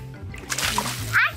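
Water splashes out of a bucket in a brief wet splatter, with someone talking and squealing over it.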